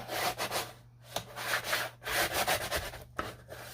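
Paper is burnished down onto a mini album base by hand, giving a series of short dry rubbing strokes close by, quick back-and-forth swipes with brief pauses between them and no talking.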